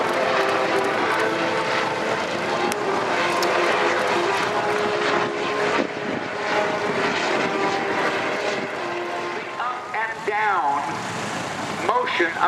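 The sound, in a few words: helicopter landing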